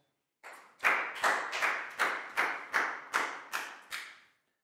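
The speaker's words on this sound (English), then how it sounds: "Big round of applause for Chew," A class of children claps in a rhythmic round of applause, about nine evenly spaced bursts of claps, close and fairly loud, with no talking.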